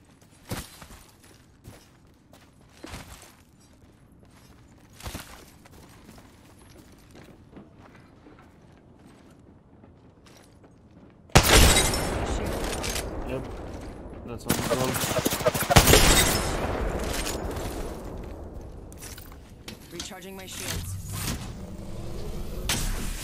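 Rapid gunfire rips through an Apex Legends match, sparse shots early on, then a loud sustained barrage of automatic fire with clattering mechanisms, while a player talks over the action.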